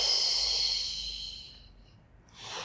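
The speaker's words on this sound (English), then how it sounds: "Exhale." A long, soft exhale during a Pilates exercise, breathy and close, fading out gradually, followed by the start of another breath.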